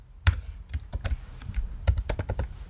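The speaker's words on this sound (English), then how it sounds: "I will start just by typing section." Typing on a computer keyboard while coding a portfolio webpage in HTML and CSS, a quick, uneven run of close key clicks and taps with no one talking.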